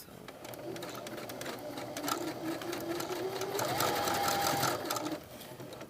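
A sewing machine runs steadily, stitching swimsuit elastic with a double needle, a continuous fast whirring hum that rises in pitch as it speeds up, with a person talking over it.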